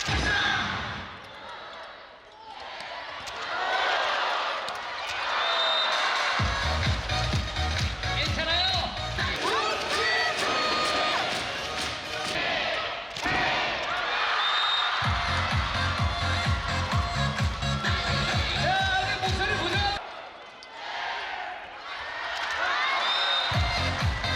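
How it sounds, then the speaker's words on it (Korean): A crowd at a Korean professional volleyball match against IBK Industrial Bank claps and cheers in loud rhythmic bursts of pounding beats, which swell and pause repeatedly. An amplified voice talks over the noise. "우리 선수의 응원의 박수 한번 힘차게"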